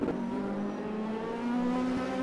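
Race cars lapping a sim racing track at Zandvoort, engines droning steadily with a rising rev pitch, a continuous close engine note with no talk.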